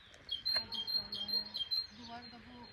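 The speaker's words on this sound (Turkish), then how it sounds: "Kuş sesini duyuyor musunuz acaba?" At a campsite near Belemedik in Turkey, a bird gives short chirping and squeaky calls in quick bursts, faint and close, over quiet outdoor background.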